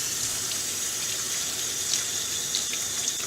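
Water from a kitchen tap runs steadily over a freshly scaled whiting fish being rinsed after cleaning, a continuous hiss with no talk.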